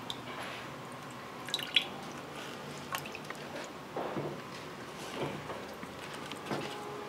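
Water drips from drain holes in a sealed IP67 housing after a waterproof test, with soft, scattered drops and small splashes at close range in a quiet room.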